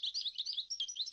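A Moroccan goldfinch chirping, a rapid run of bright, high twittering notes in quick succession, clear and close with no other sounds.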